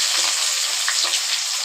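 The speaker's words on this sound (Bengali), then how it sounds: "দিয়ে দিলাম আমি কুচনো পেঁয়াজ, কাঁচা লঙ্কা আর টমেটো" Chopped onion, green chilli and tomato fry in hot oil in a pan with a loud, hissing sizzle, and a few soft stirring noises sound in the brief burst of cooking.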